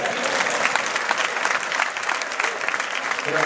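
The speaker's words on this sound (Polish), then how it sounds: "Jeszcze raz wielkie brawa dla całej ekipy." Loud, dense applause from a crowd honoring the players of a youth Christmas football tournament, a continuous close roar of clapping lasting throughout.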